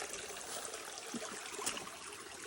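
River water flowing along the Appalachian Trail, a continuous soft trickling and rushing stream heard alone at a low, steady level.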